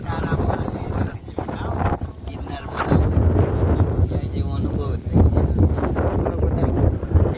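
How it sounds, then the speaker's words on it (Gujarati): Strong wind buffets the microphone in loud, rumbling gusts at Kadamgiri in Gujarat while someone talks underneath the roar. "પવન બહુ મસ્ત નો આવે"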